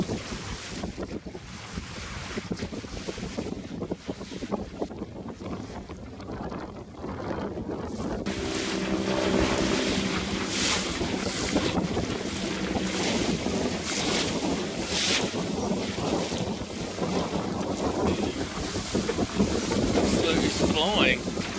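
Wind rushing steadily over a lugsail yawl dinghy under sail, broadband and loud, growing stronger partway through with water noise beneath; a voice talks faintly early on.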